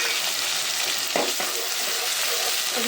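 Chopped onions and tomatoes fry in a pan, giving a steady, close sizzle throughout, with a couple of brief stirring scrapes in the middle.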